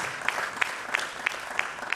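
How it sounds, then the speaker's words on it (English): An audience at a biomedical research conference claps steadily, a few louder, sharper claps standing out in an even rhythm over moderate, continuous applause. "Please, let's sustain the applause to the Global Forces 6"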